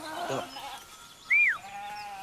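A single sheep bleats once on a quiet farm where ewes are milked and brought in, a clear, mid-distance call in a calm outdoor setting with faint background sounds.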